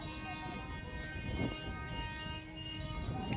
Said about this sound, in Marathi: रेल्वे आली एकदम रेल्वे बी शेजारी